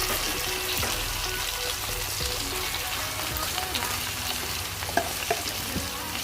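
Pork and taro fry in a pan, giving a steady, close sizzle with frequent scraping stirs and a few light clinks throughout.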